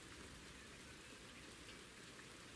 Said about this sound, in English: we got some rain coming on